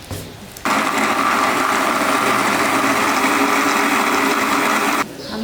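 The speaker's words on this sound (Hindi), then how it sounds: "2 से 3 टीस्पून हम इसमें डालेंगे दही और इसको हम ग्राइंड कर लेंगे" An electric grinder purees green chili, fresh mint and yogurt into a paste, a loud steady high whine that starts suddenly, runs for about four seconds and then cuts off.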